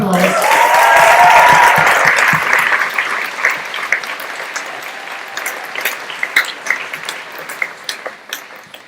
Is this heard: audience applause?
yes